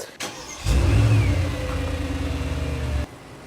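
A Bentley engine cranks and catches with a sharp start, then settles into a loud, steady low rumble with a slight rev for a few seconds before cutting off abruptly. No one speaks.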